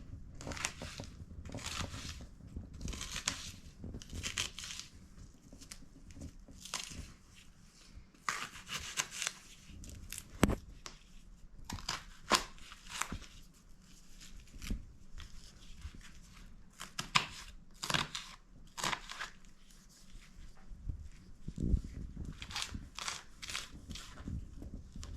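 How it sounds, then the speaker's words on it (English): A knife chops an onion for meatloaf on a cutting board, producing irregular clusters of crisp taps and slicing scrapes, close and fairly quiet, with no talking. "I'm gonna cut up my onion."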